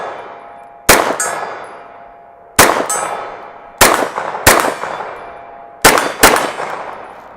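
A Glock pistol fitted in an MCK Gen 2 chassis fires at steel targets outdoors; six sharp shots, some in quick pairs, each followed by a bright ringing clang of steel.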